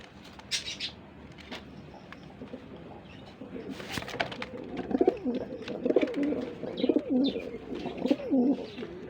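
A male racing pigeon at a pigeon farm coos in a run of low, rolling, repeated calls, close and clear, after some scattered rustling and soft flutters at the start.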